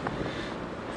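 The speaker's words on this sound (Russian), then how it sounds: "Ветер сегодня. Ветер." Warm outdoor wind in Yeysk buffets the microphone, giving a brief, rumbling gust of about one second.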